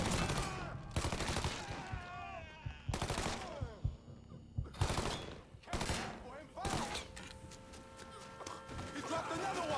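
Repeated bursts of gunfire in the video game Mafia 3, loud and close, arrive in sharp volleys separated by brief gaps, with a rapid string of shots near the end.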